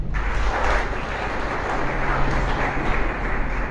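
A congregation applauds the Creator during a sermon: broad, continuous clapping from a crowd, fairly loud and even throughout, with no distinct voices over it.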